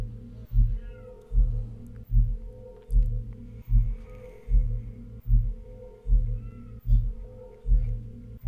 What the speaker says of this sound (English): I don't know if that meowing is picking up